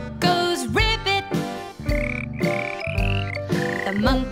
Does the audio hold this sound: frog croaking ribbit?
yes